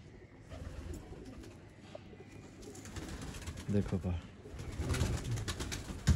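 Pigeons coo softly in a breeder's loft among a setup of breeding pairs, their murmuring calls running under a voice and some handling noise.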